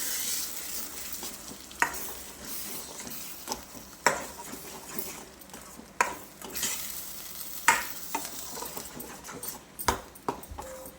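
Chopped vegetables sizzle steadily in a pan while a utensil scrapes and stirs, with sharp clanks every couple of seconds.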